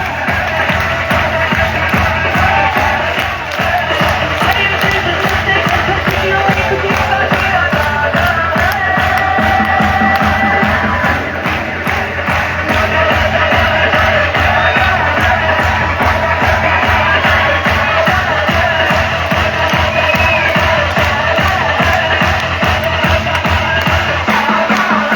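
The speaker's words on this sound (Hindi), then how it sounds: "प्लीज जोरदार तालियों से स्वागत करते हैं" Audience at an IMC business seminar applauding and cheering to welcome a wrestling star onto the stage, a dense, loud, continuous crowd roar of clapping and shouts lasting the whole stretch.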